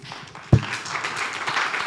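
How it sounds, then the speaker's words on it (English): A round of applause from the audience at an African health-tech investor summit, starting with a sharp clap and then spreading into a steady, dense crowd clapping that lasts to the end. "Thank you, Robert. A round of applause."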